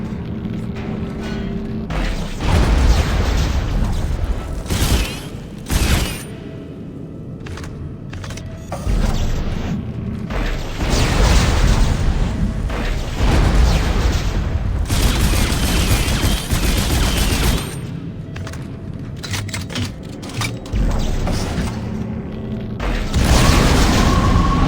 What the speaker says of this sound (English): Nitrogen trichloride. Those explode if they overheat.